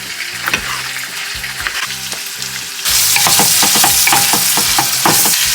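Onions sauté in a pan, a loud steady sizzle and fry with stirring, the frying swelling louder partway through.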